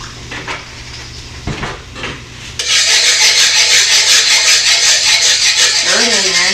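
A utensil stirs milk into homemade gravy in a pan, scraping steadily and rhythmically against the metal after a few softer knocks, with a voice briefly speaking at the end.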